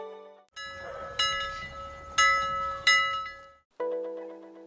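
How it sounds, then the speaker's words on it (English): A train at the Banff railway station sounds a series of loud, sustained, chord-like horn blasts, some overlapping and others separated by short gaps, with rumble beneath and no talking. "We're here at the Banff railway station."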